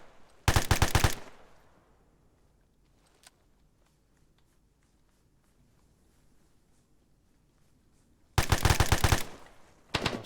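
Two loud bursts of rapid automatic gunfire in a military video game, one near the start and one near the end, separated by a quiet stretch with a faint single shot.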